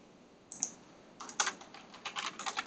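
Someone types on a computer keyboard while writing Python code: a couple of isolated key clicks, then a steadily quickening run of close, crisp keystrokes.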